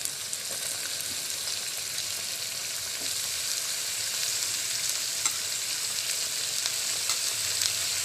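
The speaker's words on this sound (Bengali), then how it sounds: "ভুঁড়িটা একটু ভাজা ভাজার মতো করে নেবো" Goat tripe frying in a pan with a little added fat gives off a continuous, even, close sizzle that holds steady throughout, with no voices.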